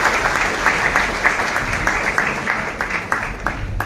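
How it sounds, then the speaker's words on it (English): Audience applause for the Minister of Agriculture at a City Hall launch of the Global Hunger Index, dense crowd clapping with scattered sharper claps, sustained at steady loudness for about four seconds. "A better round of applause for the Honorable Minister of Agriculture."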